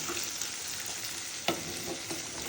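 Chickpeas frying and spattering in a pan while being stirred, a steady close sizzle with a sharper clack of the spoon near the middle.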